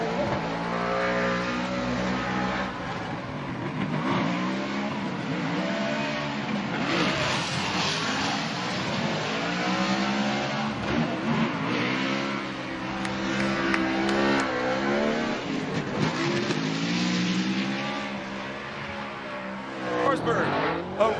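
A Ford Performance drift car at a 2023 Formula Drift round in Atlanta revs hard, with its engine rising and falling in repeated surges amid tire squeal, while a commentator talks excitedly over it.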